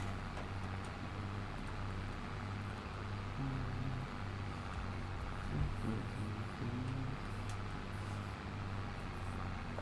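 A heavy second-generation Dodge truck engine in the video game Farming Simulator 22 idles with a low, steady drone, fairly quiet and continuous, with a slight rise in revs partway through.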